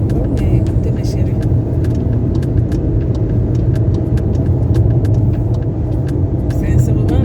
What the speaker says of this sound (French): l'autoroute, il y a aussi beaucoup de poids lourds, des camions là.